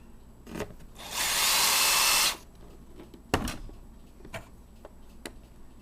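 A drill bores a hole through an Otterbox 3250 trail camera case, a single loud, steady whir of about a second, followed by scattered clicks and handling taps.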